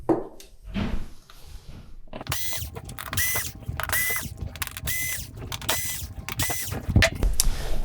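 Screws are backed out around the edge of a Samsung UN46D6900WF TV panel. Repeated short mechanical whirring bursts with ratcheting clicks follow one another at close range, between quieter handling noises.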